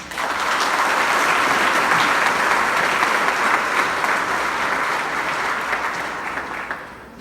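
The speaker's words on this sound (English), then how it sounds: "A round of applause for the Honorable Paula May Weeks" An audience at a sports awards ceremony breaks into a loud, full round of applause that holds steady for several seconds before tapering off at the end.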